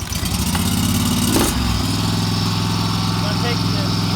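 A Lesco 48-inch walk-behind mower engine starts with the choke on, giving a loud cranking burst that quickly settles into a steady, close idle rumble.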